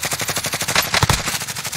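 Rapid automatic gunfire from a Grau class loadout in the video game Warzone, Modern Warfare, rattles steadily and loudly up close, with a heavier burst of shots near the middle.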